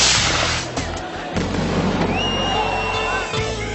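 Rockets fired at the start of the Pamplona bull run give sharp booming bangs and crackles, close and loud, over a noisy crowd, followed by rising whistles.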